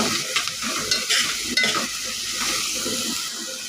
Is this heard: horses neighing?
no